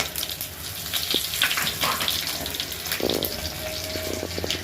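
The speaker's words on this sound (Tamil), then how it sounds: "எண்ணெய் சூடாயிடுச்சு. இதில் கொஞ்சம் சோம்பு போட்டுக்கலாம். சோம்பு, பிரிஞ்சி இலை, பட்டை, கொஞ்சம் கருவேப்பிலை" Fennel seeds, bay leaf, cinnamon and curry leaves crackle in hot oil for a chicken kuzhambu, a steady close hiss and sputter of frying with a few sharp pops, heard alone with no talk.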